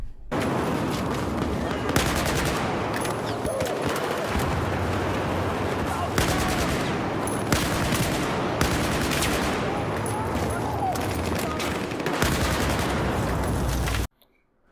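Continuous AK-12 assault rifle fire in Battlefield 4, loud and dense with rapid bursts and sharp cracks across the whole stretch, cutting off abruptly at the end.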